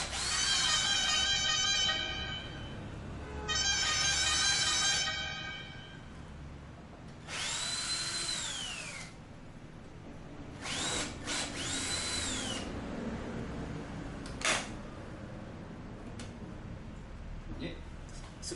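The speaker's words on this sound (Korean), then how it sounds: "십자 드라이버 저는 편하게 드릴로" Power drill whirring in several separate runs as it backs out screws on a Yamaha XMAX300 scooter, close and loud with rising and falling pitch, short pauses between bursts, and someone talking in the background.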